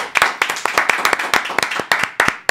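A small group claps for a rapper at the start of an interview, sparse individual hand claps landing close and sharp in an uneven rhythm for a couple of seconds.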